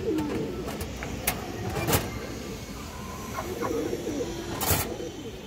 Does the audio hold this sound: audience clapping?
no